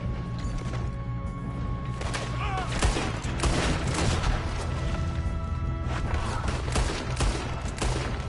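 Dense, continuous gunfire and clattering action sounds from the Red Dead Redemption 2 game on PS4, loud and busy throughout, with mechanical rattles layered over a low rumbling bed.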